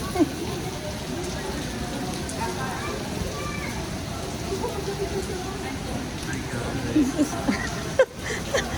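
Steady rain falls outdoors as a constant, dense hiss throughout, while people talk over it.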